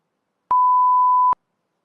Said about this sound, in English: you can listen this beep sound as well